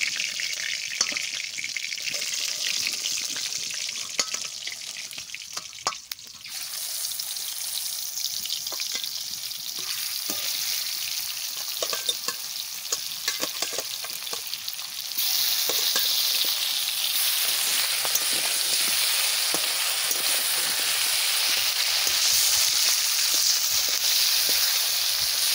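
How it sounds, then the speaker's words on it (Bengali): Kokari fish fries in a pan until reddened, with a loud, steady sizzle and occasional stirring scrapes that grow fuller and brighter in the second half. "এরকম করে লাল লাল করে আমি ভাজা করে নিচ্ছি মাছ।"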